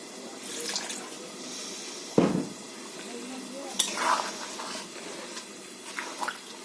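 Water being poured into a cooking pot of chicken curry, an intermittent splashing and trickling with a few clanks of the pot, while a person talks over it.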